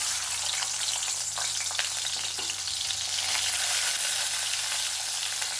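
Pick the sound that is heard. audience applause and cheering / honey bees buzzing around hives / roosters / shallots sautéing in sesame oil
shallots sautéing in sesame oil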